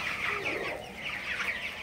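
Broiler chickens about twenty-one days old cluck and chirp together in a shed at night, a dense, steady flock chatter that carries on without a break and with no one talking.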